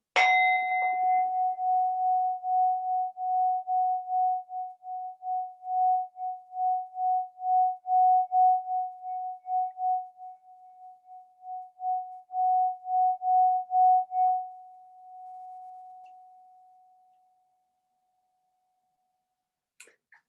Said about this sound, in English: It's a beautiful singing bowl that I got here.